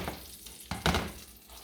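A flipped pork chop sizzles in the pan with a steady crackle. A sharp burst of frying follows the turn and then settles back to a softer hiss.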